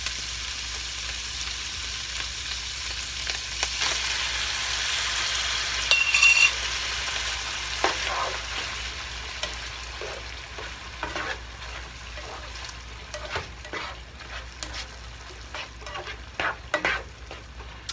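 Canned Rotel tomatoes with green chilies dumped into a hot pan of seasoned sausage, sizzling and being stirred with scrapes and clatters that come louder in the second half, close by, no speech.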